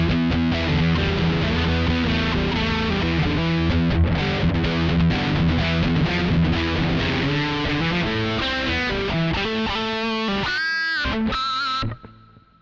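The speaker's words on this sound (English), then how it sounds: "So that's my kind of thick, heavy distortion." An electric guitar through an Angry Charlie distortion pedal plays a thick, sustained riff, loud and dense throughout, then cuts off abruptly near the end.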